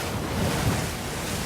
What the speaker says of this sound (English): This is the tide slipping away